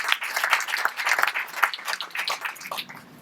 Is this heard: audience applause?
yes